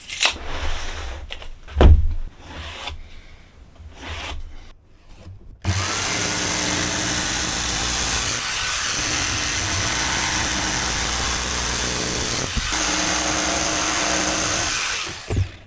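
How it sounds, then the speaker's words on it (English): Power-tool cutting of a piece of car seat foam for an auto upholstery repair, a steady loud whirring drone running continuously for about ten seconds after a few quieter handling noises. "So that's the piece of foam cut."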